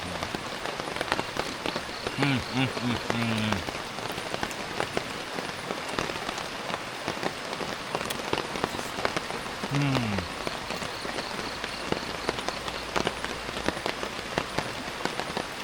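Steady rain patters on surfaces at a riverside wild campsite at night, a continuous dense hiss throughout, with a brief voice-like sound at two moments.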